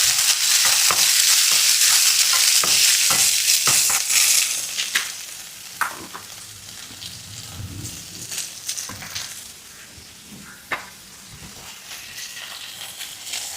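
Ginger and chopped green chillies frying in a pan for a Kerala Onam sadhya dish, loud crackling sizzle at first that settles into softer frying with scraping stirs and spoon clicks.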